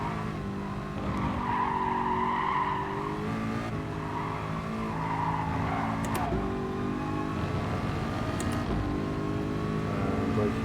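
Engine drone with tires skidding and squealing as a car brakes in the racing game GT Sport, a continuous steady roar with a couple of brief sharp clicks.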